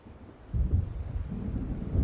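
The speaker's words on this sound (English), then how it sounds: "It seems there's a storm coming." Low thunder rolls in the video game Alan Wake American Nightmare as a storm approaches over a lake. A soft rumble swells suddenly partway through and lingers as a deep, distant drone.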